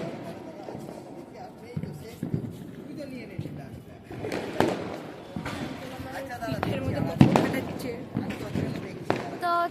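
Diwali fireworks and firecrackers burst at night from many directions, sharp cracks and thumps scattered irregularly at varying distances, with a loud bang near the end and people talking throughout.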